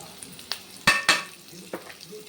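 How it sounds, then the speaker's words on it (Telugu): Bitter gourd and garlic fry in a pan with turmeric, giving a soft sizzle broken by a few sharp, close scrapes of a stirring spoon. "కాకరకాయ బాగా వేగింది. దాంతో తెల్లగడ్డ కూడా వేపుతా ఉన్నాను."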